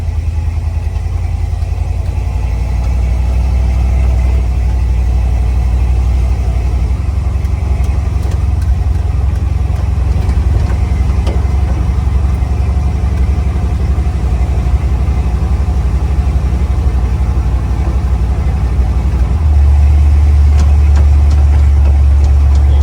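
A 1979 or 1985 Ford F-250 pickup truck drives along with a loud, steady low engine rumble heard from inside the cab, the pitch shifting slightly near the end as it changes gear.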